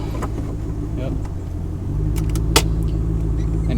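A car shifted into drive during a driving lesson in a parking area, engine idle rising into a steadier hum as it starts moving, with a short click partway through and people talking inside.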